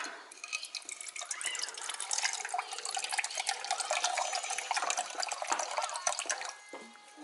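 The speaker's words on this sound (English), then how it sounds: "Let's go ahead and pour this one." Half a cup of water poured steadily onto a Parents' Choice diaper, a continuous close splashing trickle lasting several seconds before tapering off at the end.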